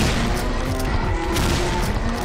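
In a zombie shooter video game, a sentry gun fires continuously, a dense rattle of rapid gunfire that stays at a steady level throughout.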